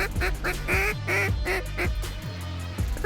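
Ducks coming in during a North Dakota duck hunt, a series of loud, close, rhythmic quacks and honking calls repeating over a few seconds.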